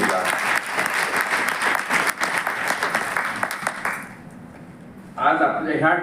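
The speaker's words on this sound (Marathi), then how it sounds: "त्यांच्याकरता आपण जोरदार टाळ्या वाजल्या" Hearty applause from a crowd of women at a pharmacists' association event, loud and dense for about four seconds before fading, followed by a voice speaking.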